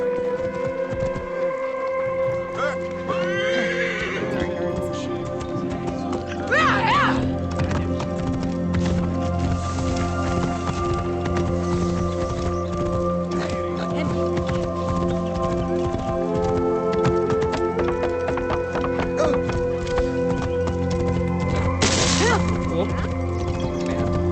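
Steady hoof clip-clops from a horse in the video game Rediscovering Egypt over a constant musical and ambient bed, with occasional louder rustles and a brief whinny-like burst.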